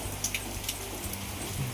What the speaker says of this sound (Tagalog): Sa labas po ay sobrang lakas po talaga ng ulan.